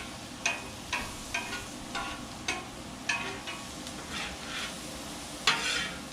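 Shrimp stir-fry on a Blackstone griddle with garlic, sizzling steadily while a spatula scrapes and tosses in a regular rhythm of about a dozen close, crisp strokes, ending with a louder scrape.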